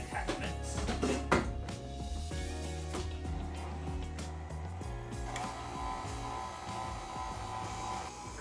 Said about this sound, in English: we're just gonna go ahead and use the whisking attachment